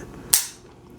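Taurus Raging Hunter .500 Magnum revolver with a 6.75-inch barrel being decocked, a single sharp metallic click up close with a brief ringing tail over faint room noise.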